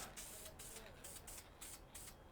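A spray can lays a light second coat of paint on a 1.9L ALH engine, in about six short, regular hissing bursts with brief pauses between them, fairly close.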